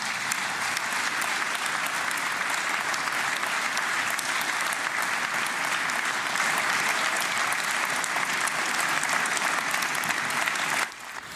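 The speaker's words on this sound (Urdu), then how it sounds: "ٹرمپ کی تقریر کے دوران سب سے طویل تالیاں اس وقت بجیں جب انہوں نے کہا کہ اسرائیلی یرغمالی واپس آ چکے ہیں" Long, sustained applause fills a hall during Donald Trump's speech after the announcement that Israeli hostages had returned, a dense, even roar of clapping that cuts off near the end.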